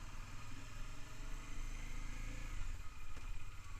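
A motorcycle runs in first gear during break-in of a new engine, a steady low, rumbling hum with mild throttle swells, fairly faint and continuous.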